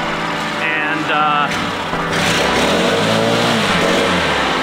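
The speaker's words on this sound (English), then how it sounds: "So this blower is freaking sweet. It's got the max power." A professional backpack leaf blower engine runs loud and close, a strong sustained roar with shifting whine that swells and holds, while someone speaks over it.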